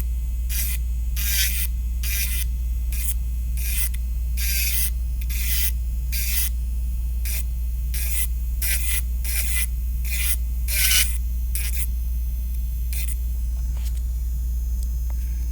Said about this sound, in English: The rest I'm just hand filing.